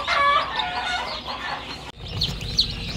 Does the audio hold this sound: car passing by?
no